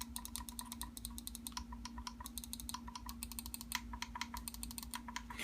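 Typing on a CM Storm Devastator gaming keyboard produces quick bursts of close, crisp key clicks in an irregular rhythm over a faint steady hum, with no talking.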